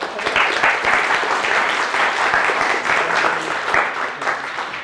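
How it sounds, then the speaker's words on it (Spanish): Sustained audience applause for a doctor introduced as a speaker at a talk on industrial and environmental global optimization, a dense, steady wash of many hands clapping at even loudness for about five seconds. "demos un fuerte aplauso a la doctora."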